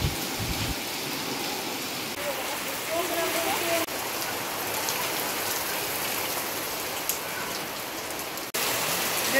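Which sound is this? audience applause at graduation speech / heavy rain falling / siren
heavy rain falling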